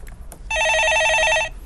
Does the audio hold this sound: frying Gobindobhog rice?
no